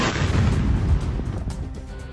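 Explosions from bombardment in Jabalia camp, Gaza, a dense rumbling blast in the first second that decays into a lingering roar with scattered softer pops and crackles.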